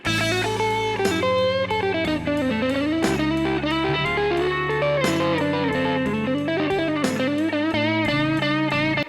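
A distorted electric guitar plays a busy, unbroken stream of notes, bending and sliding without pause.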